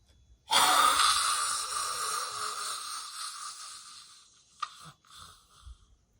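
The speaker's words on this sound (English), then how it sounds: "blow your breath out from the throat, out of your mouth" A forceful breath is blown out from the throat through the open mouth during a yoga exercise for thyroid, one long loud breathy rush close by that fades over a few seconds, followed by a brief softer breath.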